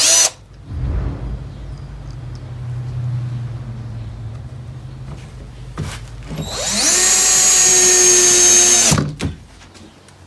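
A power drill bores through scrap lumber, first as a low grinding whir, then as a loud high-pitched whine for a couple of seconds that cuts off sharply.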